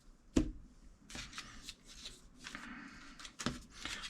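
Trading cards from a Star Wars Unlimited prerelease kit being shuffled by hand, a few sharp riffling bursts with softer rustling in between, close and moderately loud with no talking.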